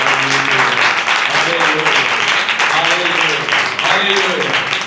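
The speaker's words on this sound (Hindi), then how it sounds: "ताली बजा के हम उसकी तारीफ करें।" Church congregation applause: a steady, dense wash of many hands clapping together, loud and sustained throughout, with voices faintly underneath.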